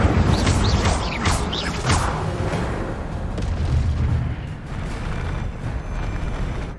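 The Incendio fire spell is cast in Hogwarts Legacy, a deep whooshing boom with rumbling low-end blasts and crackling bursts, loud and rolling over several seconds.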